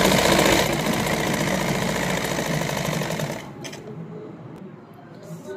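A sewing machine runs continuously at close range, stitching salwar fabric over foam with a steady buzzing whir. After about three seconds it slows and quiets into a softer hum, with small clicks near the end.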